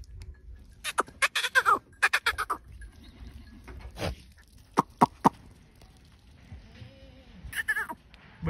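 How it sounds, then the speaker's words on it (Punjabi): Goat bleating in a desert village near the India–Pakistan border, several short loud bleats in bursts separated by quiet gaps, with faint voices of people nearby. "ਬੜਾ ਸੋਹਣਾ ਬੱਕਰਾ ਯਾਰ ਮਾਸ਼ਾਅੱਲਾ"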